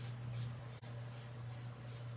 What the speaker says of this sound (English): I'm going to use my squirt bottle to start to activate my watercolors